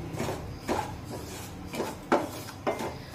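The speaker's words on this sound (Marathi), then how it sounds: "आता मंद आचेवर हा रवा आपण छानपैकी सोनेरी रंगावर भाजून घेऊया आणि एकसारखा असा हा रवा हलवत राहायचं" A spoon scrapes and stirs semolina roasting in a pan over a low flame, giving soft rhythmic scraping strokes with a few sharper metallic clicks against the pan, close and steady.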